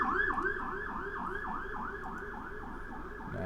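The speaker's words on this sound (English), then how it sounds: "Sorry for the sirens." Emergency vehicle sirens wail outside in a repeating rising and falling cycle, steady and moderately distant, with no talk over them.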